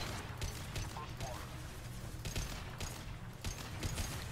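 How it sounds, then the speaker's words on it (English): Rapid gunfire in the video game Mass Effect 2, fired by a soldier class, rattles steadily through the whole stretch beneath a dense, busy game soundscape, with no voices. "I was just shooting"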